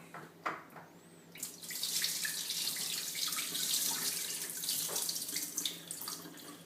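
Rinse water poured out of a bowl of rice into a kitchen sink while making Indian dal, a steady broadband gush running for several seconds with a brief splash before it, close and moderately loud.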